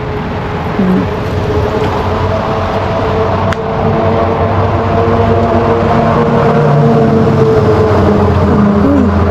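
An ice-covered car drives past during freezing rain, giving a steady, loud engine hum and road rumble with a tonal whine throughout and no talk.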